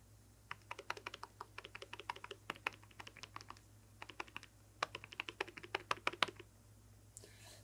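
Elgato Stream Deck buttons are pressed in quick, irregular runs of soft plastic clicks, close and fairly quiet, with short pauses between the bursts.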